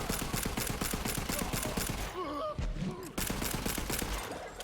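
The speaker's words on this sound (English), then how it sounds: "Just me shooting this annoying guy till he dies." Rapid bursts of gunfire aimed at an enemy in a Gearbox video game, rhythmic automatic shots that pause briefly amid gliding electronic tones, then resume loud and close.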